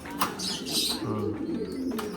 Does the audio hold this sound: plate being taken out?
no